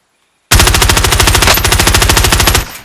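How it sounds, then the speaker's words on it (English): A sustained burst of rapid automatic gunfire in a shooter video game, loud and close, with steady rhythmic shots for about two seconds before cutting off. "Taking shots!"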